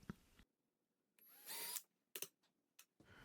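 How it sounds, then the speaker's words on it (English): A drill press with a 1/8 inch bit whirs up briefly and bites into wood, followed by a few short sharp knocks and clatters nearby. "drilled them out with the 1/8 inch drill bit"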